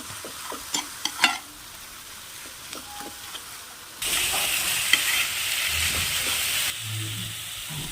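Chicken momo filling with green chilli, coriander, black pepper and ginger-garlic paste is stirred in a pan: a few close spoon scrapes and clinks, then a steady loud sizzle as it keeps frying, with no talk.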